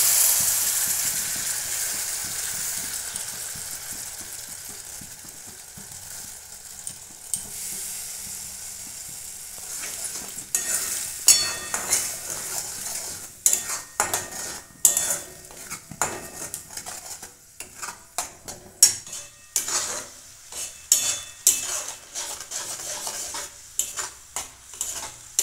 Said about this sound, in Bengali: মশলাটা আমি খুব ভালো করে কষে নিয়েছি।